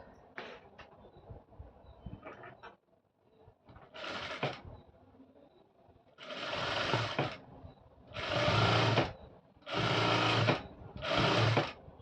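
Sewing machine stitching a thread piping along fabric, running in several separate bursts that grow longer and steadier toward the end, with softer handling clicks and rustles between them.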